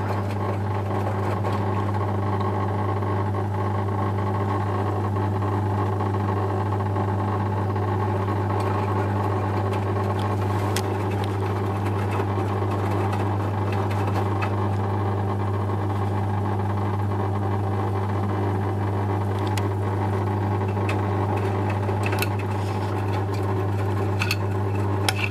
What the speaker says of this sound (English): it's reached the 40-degree temperature, and the recirculation pump is on, and it basically carries on in that style and fashion until the rinse cycle starts